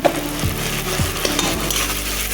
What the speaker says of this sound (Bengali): মশলা দিয়েও আমি ভালো করে কষিয়ে নেব